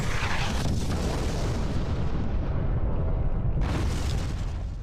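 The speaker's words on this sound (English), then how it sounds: "we're going to control combat, so we're going to bombard it" Continuous orbital bombardment in Master of Orion 3, a dense, loud roar of overlapping explosions and rumbling booms that dips briefly and then surges again, with no voices.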